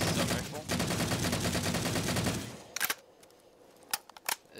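Rifle fire in Garry's Mod rattles in a rapid automatic stream for a couple of seconds, then stops, followed by a few sharp isolated shots against quiet.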